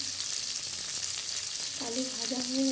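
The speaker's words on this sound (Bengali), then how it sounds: "আলু ভাজা হয়ে গেছে" Potatoes fry in oil in a pan with a loud, continuous sizzling hiss, joined near the end by a brief low hum.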